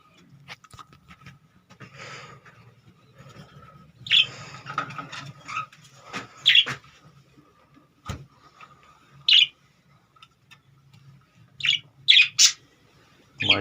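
Several pet budgerigars chirp in the morning in a cold room, giving bright, scattered tweets and short calls in uneven bursts at close range, over a low background hum, with no talking.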